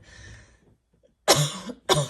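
Two harsh, close coughs in quick succession after a brief quiet pause, the first longer and louder than the second.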